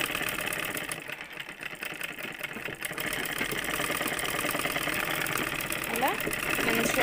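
A sewing machine hums and rattles steadily while stitching a folded hem on a dress, the motor drone continuous and fairly loud, with a voice speaking over it.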